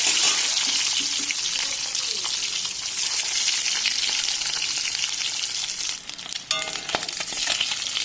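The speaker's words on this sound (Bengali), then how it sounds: "ডিমগুলো এক করে ভেজে নেব" Steady, loud sizzling of home-raised chicken eggs frying in hot oil, a continuous crackling hiss with a few sharper pops and scrapes near the end.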